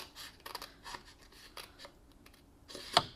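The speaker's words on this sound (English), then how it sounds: "So just go ahead and cut along the score line." Scissors cutting card stock along a score line in a series of quiet, close snips and crisp paper crunches, ending with a sharper, louder closing snip.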